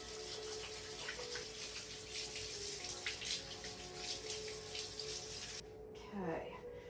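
Tap water runs steadily to rinse glue off a pressed cane chair seat during repair, a close, continuous splashing hiss that briefly drops and shifts near the end.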